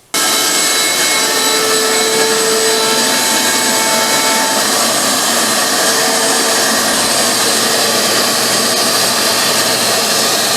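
Wood being sawn into drawer stock, a loud, continuous, harsh cutting whine that runs steadily and close by with no talk.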